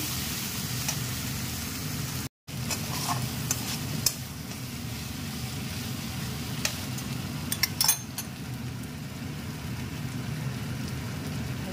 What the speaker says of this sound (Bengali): এখন এটাকে একটু ভাজা ভাজা করবো।